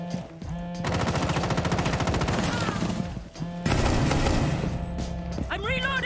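MK14 DMR fired in Rainbow Six Siege, sustained rapid bursts of loud gunfire with a short pause partway, then a closing burst and some higher clatter at the end.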